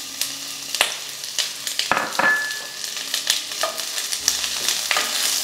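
Chopped garlic sizzles in hot olive oil in a pan for a Sri Lankan-style pasta dish, with crackling pops and scraping stirs in irregular bursts, close up.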